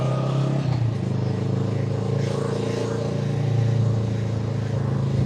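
A large motorcycle engine runs steadily and loudly up close, a deep continuous rumble with a slight rise in intensity partway through.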